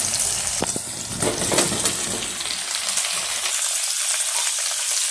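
Brinjal drops into a hot pan with garlic and fries with a loud, close sizzle that starts abruptly and settles into steady crackling with a few stirring clatters.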